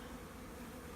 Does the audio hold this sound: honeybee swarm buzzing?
yes